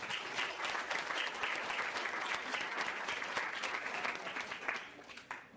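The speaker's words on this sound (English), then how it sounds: "Nice round of applause for them." An audience at a high school fall sports banquet gives a round of applause, dense and steady clapping that carries for several seconds before thinning out at the end.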